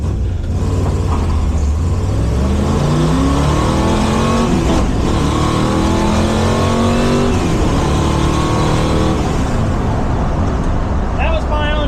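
A 1971 Plymouth Satellite drag car accelerates hard with 6,000 RPM shifts, its loud engine note climbing through several gears with clear shift breaks. The roar stays close and continuous throughout.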